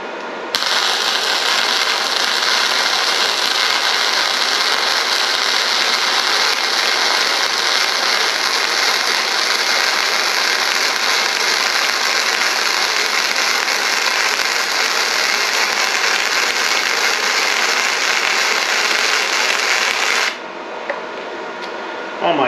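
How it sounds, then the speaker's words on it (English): A 110V flux core MIG welder welding metal gives a steady, loud, close crackling sizzle that runs unbroken for about twenty seconds, then cuts off abruptly. "Boy, this thing will MIG weld."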